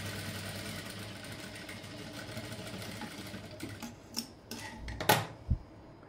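Sewing machine stitching darts on the front panel of a blouse, a steady fast mechanical whir running throughout, then a few louder clicks and thumps near the end as the stitching stops.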